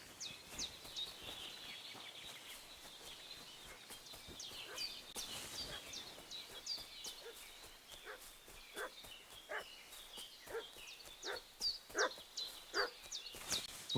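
A dog in the medieval world of Kingdom Come: Deliverance II barks repeatedly at a distance, quick yaps growing more insistent, mixed with hoofbeat-like clopping and chirping birds in an outdoor ambience.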